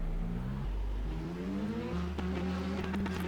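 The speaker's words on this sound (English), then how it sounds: "It sounds just like a car." A car engine hums steadily, then its pitch climbs as it revs and accelerates, with a turbo-like whir layered over the rising tones. It is close and continuous, with no talking.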